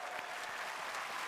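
An audience at a Google I/O developer keynote applauds, a dense, even clatter of many hands clapping steadily through the whole short stretch.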